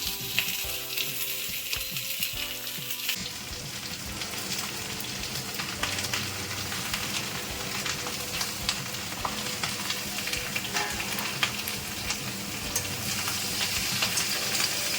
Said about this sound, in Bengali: এখন আমি আলু বেগুন ঢেলে দিচ্ছি।